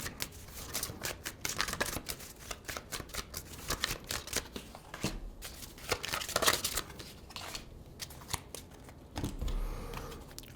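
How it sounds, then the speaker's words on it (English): Tarot cards being drawn and shuffled, with crisp, quiet riffling and flicking bursts that come in uneven clusters and short pauses, heard close up with no talking. "So let's go ahead and draw some cards and see what we get."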